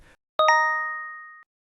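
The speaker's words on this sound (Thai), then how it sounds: "มันเป็น Push Notification จากเกม Bangkok Guardians" A phone push notification from a game app sounds as a crisp double-struck chime, a bright ringing two-note ding that fades over about a second into silence.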